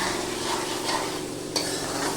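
Potatoes for pav bhaji are stirred in a frying pan, giving a steady close sizzle with soft scraping from the stirring and one brief clink.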